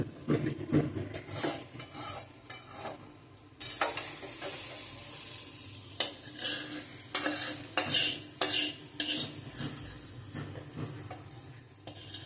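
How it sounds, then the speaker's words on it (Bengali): Fried onion stirred into potatoes in a pan, utensil scraping and clinking against the metal in repeated strokes over a steady close sizzle, with no talking. "পেঁয়াজটা ভাজা ভাজা হয়েছে, এবার আলুর মধ্যে দিয়ে দেওয়া হলো।"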